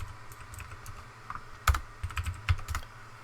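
Fingers tapping out a terminal command on a computer keyboard, a quiet scattered run of soft key clicks with a few sharper strokes, close and alone in a calm room.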